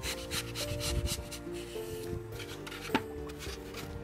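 A knife scrapes and rasps through soft floral foam in repeated back-and-forth strokes, close by. A sharp tap lands near the end.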